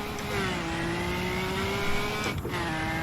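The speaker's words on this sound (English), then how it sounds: "when the turbo kicks in, oh my god" A Can-Am race car in Assetto Corsa accelerates hard under turbo boost, its engine note climbing steadily, loud and close, with a brief shift break near the end.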